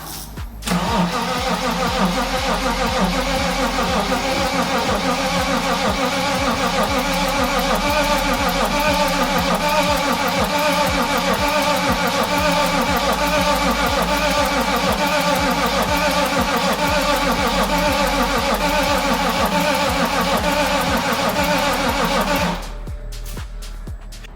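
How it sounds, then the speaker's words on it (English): A BMW E24 with a swapped B58 engine, under test after a diesel and air check, turning over in a long steady rhythmic whir of starter cranking, loud and close, then cutting off near the end. "Quick test start. Let's go. It's gonna be a little bit till it actually fires up."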